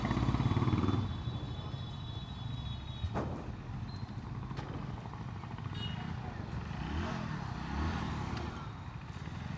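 A Hero HF Deluxe Pro 100cc motorcycle engine with stock silencer hums steadily while riding, with a low, continuous putter and some wind and road noise throughout.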